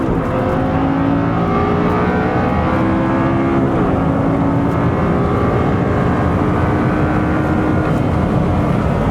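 An older Audi car drives a lap of the Nürburgring Nordschleife, its engine droning loudly and steadily from inside the cabin, rising and falling in pitch through the gears.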